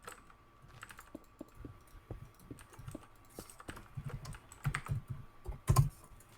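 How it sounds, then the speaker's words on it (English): Keys clatter on a computer keyboard in quick, uneven bursts of close clicks, with a few louder taps near the end, while a message is typed during a Minecraft public server session. "as I'm typing this message"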